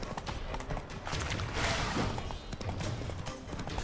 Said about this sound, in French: Au galop.